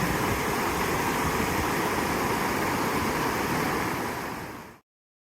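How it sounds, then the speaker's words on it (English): Steady, loud rush of a waterfall in Zion National Park, a dense continuous roar filling the clip before cutting off abruptly near the end. "Nice waterfall going."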